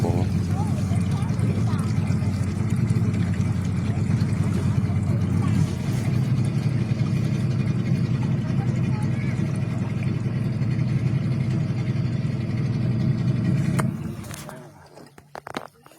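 A motorboat engine drones steadily and loudly during a flood rescue of stranded villagers in Bolikhan district, Laos, with faint voices in the background; the engine cuts out near the end, leaving quieter sounds.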